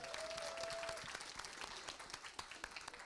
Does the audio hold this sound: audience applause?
yes